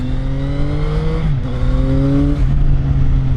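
A CFMOTO 675NK three-cylinder naked motorcycle engine revs loudly and close, its pitch rising, dipping and climbing again in a smooth, strong drone, with no talk.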